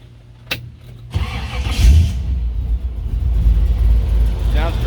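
A 1932 Ford hot rod sedan with a 350 V8, 671 Weiand blower and dual quads cranks briefly, then fires and settles into a loud, close, rumbling idle, with people talking around it.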